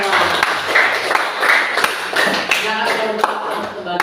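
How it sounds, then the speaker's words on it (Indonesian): Classroom group clapping hands during a lesson on halal and haram law, a scattering of sharp claps amid voices, with speech running through much of it. "Tepuk tangan buat kita semua."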